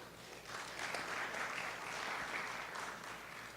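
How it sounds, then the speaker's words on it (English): At a public meeting on a parking plan, the audience applauds a task force. The soft, distant patter of many hands swells slightly and stays low and diffuse throughout. "Just give them a round of applause if you would."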